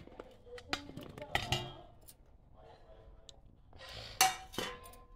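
Tomato pieces dropped into a bowl while making a brinjal and tomato pickle, with sharp clinks and clatters of dishes and utensils in bursts near the start and again toward the end, fairly close and moderately loud.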